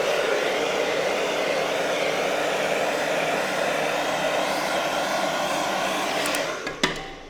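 Heat gun warming car wrap vinyl, a steady loud blowing whir held for about six seconds, close by, ending with a brief clatter.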